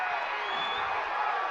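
Crowd noise at a high school wrestling match as time expires, a dense, steady wash of cheering and shouting from the stands, fairly distant and continuous without a break.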